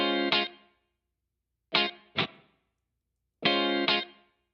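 Shreddage 3 virtual funk guitar plays short staccato chord stabs alternating with choked chords, three clipped pairs separated by silence, dry and close with no talking.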